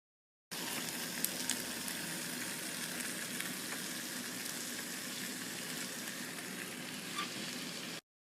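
Suya beef sizzles steadily in a griddler, with a constant, dense frying hiss that holds even and close throughout, with no talk over it.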